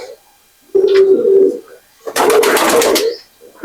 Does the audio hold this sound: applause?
no